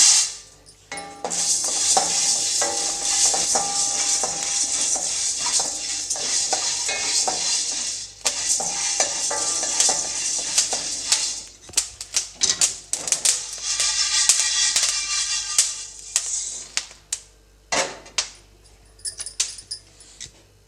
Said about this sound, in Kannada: ಈಗ ಕಾಳು ಮೆಣಸನ್ನು ಹಾಕ್ಕೊಳ್ತಾ ಇದ್ದೀನಿ